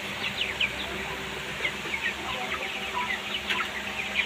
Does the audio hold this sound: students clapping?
no